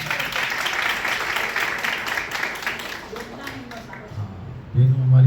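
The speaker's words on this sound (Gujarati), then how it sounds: "ભાઈ અમારી ટીચરો માટે તાળીઓ વગાડજો." Applause for the teachers fills the opening as a steady clatter of many hands, then fades away, leaving quieter room sound and a voice speaking close by at the end.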